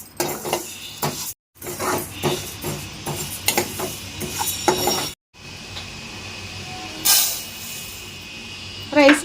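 Moong dal roasting in a pan on a low flame, stirred with a spoon that scrapes and clinks against the metal in irregular strokes, soft sizzling underneath, broken by two brief silent gaps.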